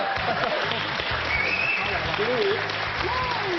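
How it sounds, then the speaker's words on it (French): A quiz show audience applauds contestant Iman, steady crowd clapping running under a presenter's voice and background music. "Applaudissements pour Iman quand même."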